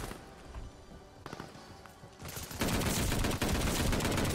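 A full-auto M1916 marksman rifle fires in Call of Duty Vanguard, starting with scattered shots and sharp cracks, then breaking into loud, dense, sustained automatic bursts.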